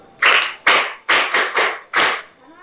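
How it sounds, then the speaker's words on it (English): A classroom of pupils claps for a girl who answered correctly, six short bursts of clapping in an uneven rhythm, fairly close and loud, with no talking over them. "Very good. Clap for her."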